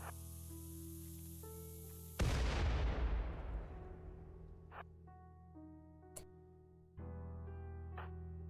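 A mining charge detonates in RimWorld with a sudden loud broadband blast that rolls off into a long decaying rumble, set against steady droning game music, with a few small pops and a second surge of sound near the end.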